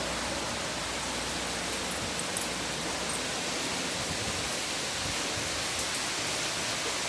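Heavy rain pours down near houses, a dense, unbroken hiss that stays steady and loud throughout, with no voices or other sounds breaking through.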